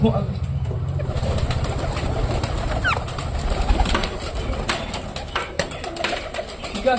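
Pet pigeons cooing nearby in soft repeated calls while being fed, over a constant low hum, with some clattering and fluttering noises.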